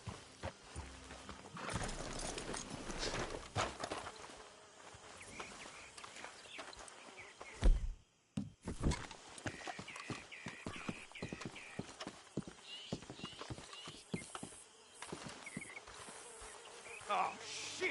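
Horses' hooves clip-clop in irregular bursts in the western video game Red Dead Redemption 2, joined by buzzing insects and a few faint voices, with a brief quiet gap midway.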